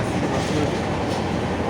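A train, apparently a metro near Agra, runs steadily on its rails with a continuous rumbling roar and faint clickety-clack, loud and close, with no talking.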